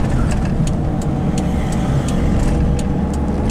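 A car drives through the industrial area of Friedlingen with a continuous, loud engine and road rumble heard from close by, with no talking.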